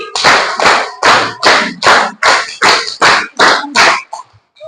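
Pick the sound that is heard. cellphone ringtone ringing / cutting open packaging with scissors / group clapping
group clapping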